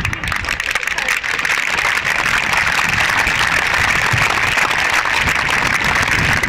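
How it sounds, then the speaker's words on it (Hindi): A crowd claps loudly and continuously at a gathering, the dense clatter of many hands holding steady for several seconds with faint voices mixed in. "जोरदार तालियां।"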